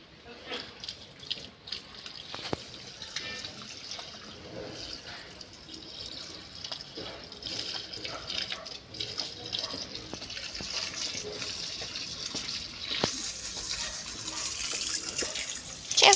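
Water running steadily from a tap into a sink, a continuous broadband hiss lasting throughout with faint household clatter and brief talk nearby.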